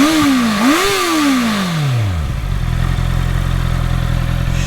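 A high-revving 2023 Honda CBR650R four-cylinder sport bike with stock exhaust screams up through the gears, then drops to a loud, steady idle rumble close by.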